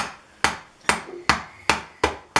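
Six sharp, evenly spaced hammer strikes on nails going into a wooden bird house, close and loud, each blow ringing briefly before the next.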